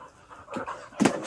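Dogs pant loudly and close by while playing, breathy huffs building to a sharp louder burst near the end, with no talking over it.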